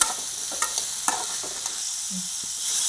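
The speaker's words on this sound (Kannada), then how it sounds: "ಕಡಿಮೆ ಉರಿ ಒಳಗೆ ಈ ಥರ ಬಾಡಿಸ್ಕೊಂತ ಹೋಗ್ಬೇಕು ರೀ" Green tomatoes sauté in oil on a low flame for chutney, with a soft steady sizzle under a few light scrapes and taps of a stirring spoon against the pan.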